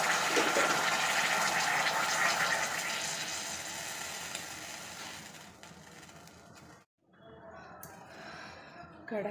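Water pours steadily into a kadhai to heat for instant kheer, making a loud, continuous rushing splash that fades and then stops abruptly. A quieter, softer clatter follows, and a voice speaks over it.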